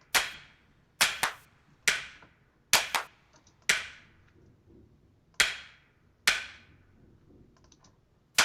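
Programmed clap samples land as sharp, bright cracks in an upbeat music cue, about ten hits in an uneven pattern, each one decaying quickly into near silence.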